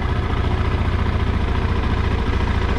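A KTM 390 Adventure motorcycle engine runs steadily nearby, a dense continuous rumble with a fast even pulse and no voices.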